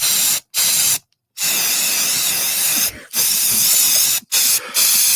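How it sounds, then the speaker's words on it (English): An aerosol can spraying around a room in loud hissing bursts, several long sprays broken by short pauses, close and with no talk over them. "Let's spray the room here"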